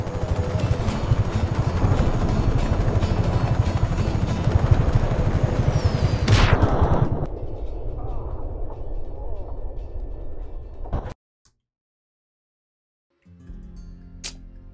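A helicopter in the video game Just Cause 3 roars with dense gunfire and explosions, loud and continuous, then cuts abruptly to near silence before quieter game sound resumes at the end.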